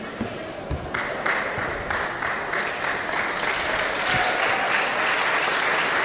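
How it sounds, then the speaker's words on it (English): A wrestling-show crowd applauds the referee, with dense, steady clapping that rises around the first second and holds full and close through the rest of the clip. "A round of applause for referee Jeff Carden."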